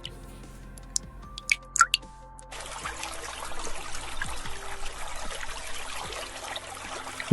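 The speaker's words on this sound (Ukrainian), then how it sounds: "Так звучить струмочок." A few isolated drips give way to a steady trickling spring stream, water burbling and splashing continuously nearby.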